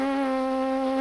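Lips buzzing into a French horn mouthpiece give one steady, nasal drone lasting about a second. The pitch holds level and the sound is loud and close, with no other sound around it.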